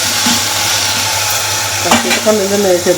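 Tomato, tamarind and garlic sizzle steadily in a pan for apple chutney, a loud continuous fry with stirring scrapes and a few brief clinks toward the end.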